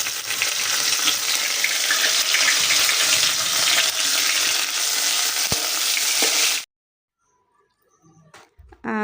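Dried fish frying in a hot pan, a loud dense sizzle for several seconds with a brief tap, then it cuts to near silence followed by faint clatter.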